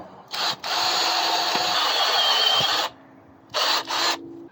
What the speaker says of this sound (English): So I got a step drill here. I'm gonna open it up to a half